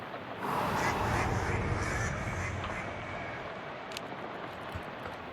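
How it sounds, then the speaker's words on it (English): A horn honks in the video game Shadows Over Loathing: one sustained, nasal blare lasting a couple of seconds, fairly loud, then fading into a quieter background. "let's honk the horn"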